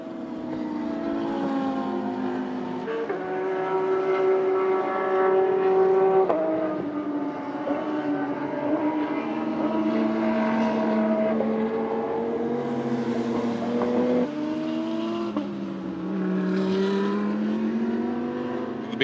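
GT4-class BMW race cars at the Shanghai 8 Hours, heard as a continuous roar of engines revving and shifting through gears, pitch rising and falling as the cars pass on track.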